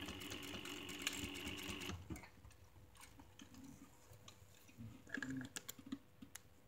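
A sewing machine stitches a fabric pocket flap along its edge, a fast steady mechanical chatter for about two seconds, followed by quieter scattered handling clicks and taps at close range.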